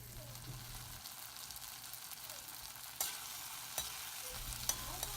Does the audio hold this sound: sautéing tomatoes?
yes